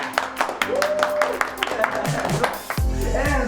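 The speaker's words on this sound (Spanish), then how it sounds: "Un aplauso para los hermanos." A small group gives scattered, uneven claps to welcome newcomers, a handful of sharp hand slaps spread over a few seconds, with people talking alongside.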